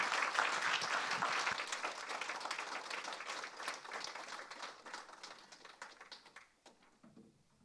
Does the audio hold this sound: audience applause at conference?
yes